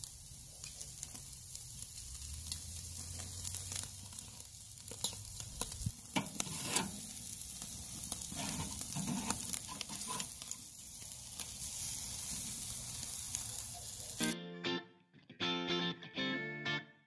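Bone-in pork chops sear on a Weber kettle grill with a Slow 'n Sear, giving a continuous crackling sizzle with scattered pops and a few handling knocks. The sizzle cuts off near the end, followed by a short burst of processed music.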